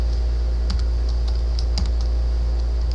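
Keys of a computer keyboard being typed during database coding work, a handful of quiet, scattered clicks over a steady low electrical hum.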